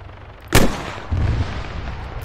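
A single loud gunshot from the Arma 3 video game, fired at a helicopter during a King of the Hill match, cracks sharply and is followed by a rumbling echo and steady background noise.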